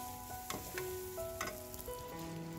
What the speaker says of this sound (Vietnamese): phi cái tỏi xay cho nó vàng rồi cho một ít tỏi cũ vô